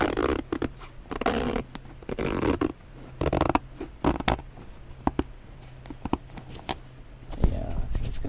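A zipper on a bag is pulled shut in a series of short, scratchy runs with brief pauses, close by and moderately loud, mixed with handling rustles.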